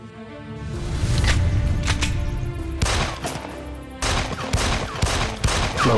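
Gunfire in a Filipino action drama, a series of sharp shots cracking out in quick bursts over a steady background, with separate clusters of reports spaced over several seconds.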